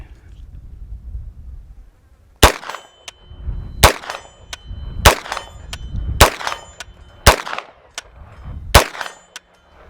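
Shots from a B&T GHM9 Compact at an outdoor range, seven sharp reports spaced about a second apart, each followed by a ringing metallic clang from a steel target at roughly 53 yards, with faint background hum between.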